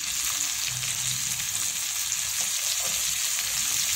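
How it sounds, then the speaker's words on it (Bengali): Carrots fry in a pan for egg fried rice, giving a constant, dense sizzle up close, steady and unbroken with faint scraping of stirring underneath. "এবার আমি গাজরটাকেও ভেজে নেব অল্প করে।"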